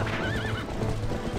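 A horse in Zelda Twilight Princess gives a wavering neigh over steady galloping hoofbeats, loud and close within dense game sound.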